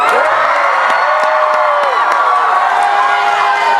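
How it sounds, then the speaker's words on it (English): A live audience at a convention reading cheers and whoops loudly and continuously, with shrill shouts and scattered claps rising over the crowd noise. "you guys can cheer. Joy of the crowd."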